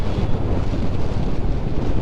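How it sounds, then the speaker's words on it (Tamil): Wind roars steadily against the microphone while a motorbike travels at night on a cool evening, a dense, unbroken rush with no voices over it. "நல்லா இருக்குங்க காற்று."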